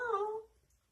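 A cat meows once, a short, clear, nearby call that fades out quickly and leaves near silence.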